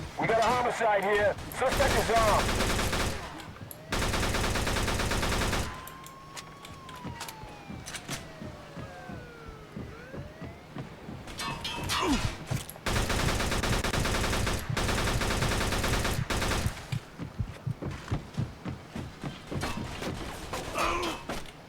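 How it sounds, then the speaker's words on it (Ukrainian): Bursts of rapid gunfire in the video game Mafia II (The Betrayal of Jimmy DLC) alternate with quieter stretches of creaks and effects, with sharp single shots near the end. "Та годі по мені тут стріляти."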